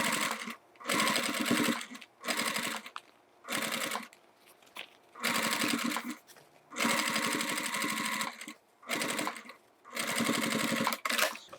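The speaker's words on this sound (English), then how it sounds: "So now we can top stitch around here." A sewing machine top stitches around a lined toiletry bag, running in loud, close bursts of rapid stitching with short pauses between the runs.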